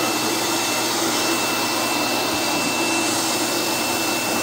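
A vacuum runs steadily on a homemade vacuum table, a loud, continuous rushing roar of suction and airflow that holds unchanged throughout with no voices.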